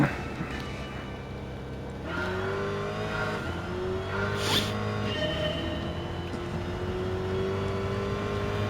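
Hemi-engined car in Gran Turismo 7 pulling away, a steady engine drone climbing through rising harmonic sweeps across several gear shifts, close and continuous with a brief higher whine near the middle.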